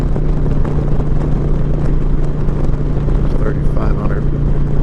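2021 Indian Challenger Limited motorcycle cruising at 80 in fifth gear around 3800 RPM, a loud, steady engine drone with wind noise, unchanging throughout, with the rider talking over it.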